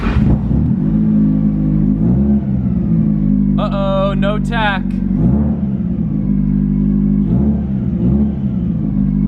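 A car engine idling with a steady low rumble, then revving up once with a rising whine in the middle, over a starter-type test with a tachometer that doesn't respond; someone talks throughout.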